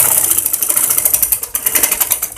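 A sewing machine stitches a baby frock with a fast, close, ticking mechanical rattle that runs steadily for a couple of seconds.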